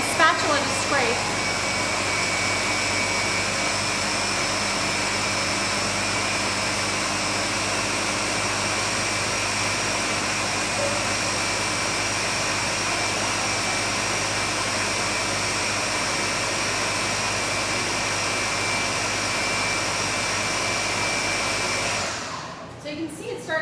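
An electric mixer runs on high through waffle batter, giving a loud, steady whirring drone close by for over twenty seconds before it cuts off at the end.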